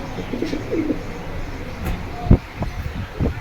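A pair of Bagdadi pigeons, kept for sale at a market, coo softly in short warbling phrases, with a few louder bursts and chirps close by against a busy background.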